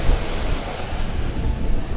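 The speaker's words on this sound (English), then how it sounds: "the water crashes really hard at the beach line." Ocean surf roars continuously at a beach in Unawatuna, Sri Lanka, with waves crashing hard at the shoreline and wind rushing across the microphone, loud and close.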